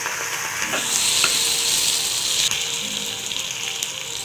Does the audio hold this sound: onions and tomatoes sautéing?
yes